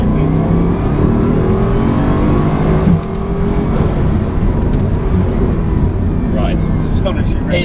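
A car with a two-stage turbocharged 16-cylinder engine accelerates hard along a straight, its loud engine roar swelling and shifting inside the cabin while people talk over it.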